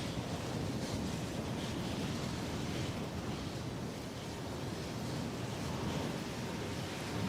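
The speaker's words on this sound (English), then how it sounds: "Windy!" Wind blowing outdoors in the Star Citizen video game, a dense, steady roar of broadband rushing noise that stays constant and fairly loud throughout, with no speech.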